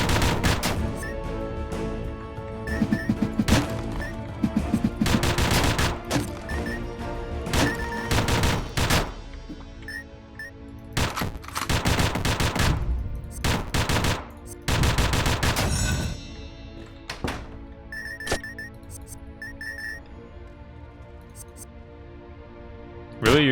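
Ranged weapon gunfire in the 2018 game Dungreed, rapid clusters of sharp shots in repeated bursts with pauses between, over a looping game music bed, loud and close.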